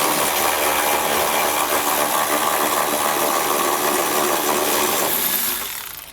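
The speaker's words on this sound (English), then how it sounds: "we're going to have two bolts that we need to take out. So I'll do that using a 16mm socket" A power tool with a 16mm socket whirs loudly and continuously for several seconds, backing the frame rail bolts out of a 2019 vehicle during a Curt trailer hitch receiver install, then trails off at the end.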